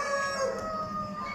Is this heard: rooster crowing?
yes